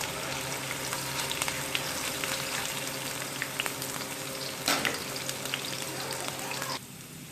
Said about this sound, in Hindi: ऐड करके इसे मैं सौटे करूँगी, इतना कुक करूँगी कि लहसुन अदरक का कच्चापन ख़त्म हो जाए।